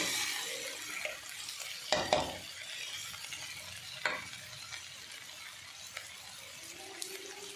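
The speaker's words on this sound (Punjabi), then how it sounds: "ਜਦੋਂ ਅਸੀਂ ਅਰਬੀ ਨੂੰ ਫਰਾਈ ਕਰਦੇ ਹਾਂ ਤਾਂ ਇਹ ਜ਼ਿਆਦਾ ਤੇਲ ਨਹੀਂ ਲੱਗਦਾ ਘੱਟ ਤੇਲ ਦੇ ਵਿੱਚ ਫਰਾਈ ਹੋ ਜਾਂਦੀ ਹੈ" Chunks of taro (arbi) frying in a small amount of oil, giving a steady close sizzle broken by a few sharp clinks and scrapes of stirring in the pan.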